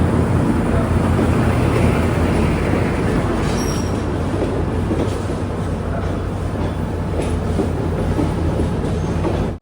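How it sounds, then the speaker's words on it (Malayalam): Loud, steady rumble of a local train arriving at a platform in Colombo, rolling close by, with continuous clattering wheels and a brief squeal, no voices. "4-ാം നമ്പർ പ്ലാറ്റ്ഫോമിലേക്ക് ഒരു വണ്ടി വരുന്നുണ്ട്."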